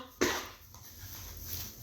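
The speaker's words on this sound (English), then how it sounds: "I hate coughing." One short, sharp cough breaks a quiet background, then fades into faint room noise.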